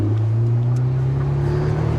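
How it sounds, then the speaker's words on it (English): Ferrari 488 Pista Spider on the move with its top down on a hot day, a steady, close engine and road drone holding low and even for a couple of seconds with no talk. "We are now in a Pista Spider, your first ever drive of this car"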